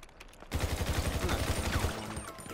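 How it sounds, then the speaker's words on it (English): Rapid gunfire in Grand Theft Auto V, a fast string of sharp shots rattling for about a second and a half before trailing off, heard up close with no speech. "He shot me with a shotgun."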